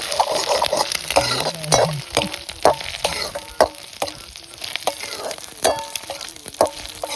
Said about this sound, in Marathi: आई आपलं अंड तळते बघा